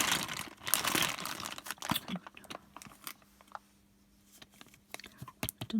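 A bag of beer bottle caps handled up close, with loud plastic crinkling and rustling at first, then sparser clicks and small metallic knocks as the caps shift about.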